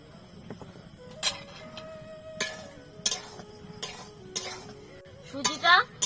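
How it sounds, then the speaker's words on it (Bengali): Dry semolina roasting in an oil-free pan is stirred with a utensil, producing irregular scrapes, clinks and ticks against the metal over a low, quiet background. "শুকনো খোলাতে সুজিটাকে হালকা লাল লাল করে প্রথমে ভেজে নেব"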